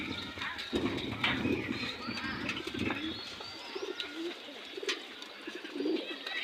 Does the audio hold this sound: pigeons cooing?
yes